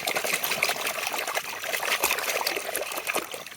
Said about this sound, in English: Okay, after washing this crane.